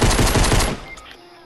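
A burst of rapid automatic gunfire in a video game, loud and close, rattles for under a second and then cuts off, leaving faint trailing noise.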